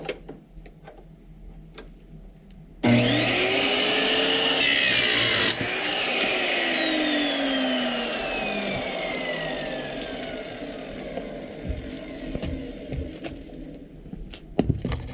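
A power saw cuts through steel nearby, starting suddenly and loudly, with a harsh whine that rises and then falls in pitch as it bites. A grinding drone continues, then fades into scattered clicks and knocks.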